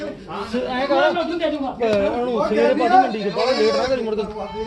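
A goat bleats in wavering, throaty cries, repeated several times close by, mixed with people talking at a village goat market.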